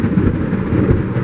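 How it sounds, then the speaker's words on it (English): Stormy weather with rumbling thunder and steady rain, a dense low roar that stays continuous and fairly loud throughout without pauses. "Okay, I'm going to have to apologise for the noise in the background. We have a storm going."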